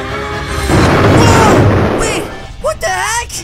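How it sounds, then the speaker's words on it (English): A big explosion in the Roblox game Brookhaven RP: a loud booming blast that swells and rumbles for about two seconds, then fades as excited voices break in at the end. "That was a big explosion."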